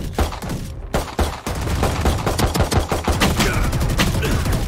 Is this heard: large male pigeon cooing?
no